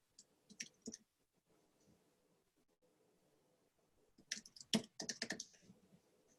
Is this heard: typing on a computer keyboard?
yes